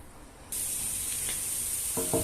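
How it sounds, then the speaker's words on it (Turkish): Carrots sizzle in hot oil in a pan while being sautéed for Bukhara pilaf, a steady loud hiss starting abruptly and continuing, with a couple of brief knocks near the end. "havucumuzu birazcık kavurduk"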